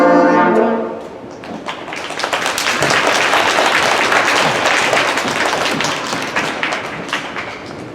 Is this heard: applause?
yes